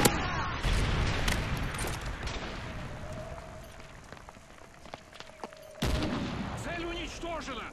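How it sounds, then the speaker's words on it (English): A Predator missile strikes in Call of Duty MW3, with distant gunfire and rumbling explosions, a faint whistling tone, then a sudden loud impact boom late in the sequence followed by crackling debris. "Friendly Predator missile inbound."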